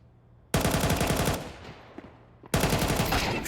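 Two loud rapid volleys of pistol fire in the video game Counter-Strike on the map Mirage, each a fast rattling string of close shots, with a quieter gap and echoing tail between them.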